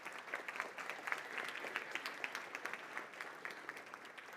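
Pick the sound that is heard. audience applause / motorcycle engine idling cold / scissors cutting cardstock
audience applause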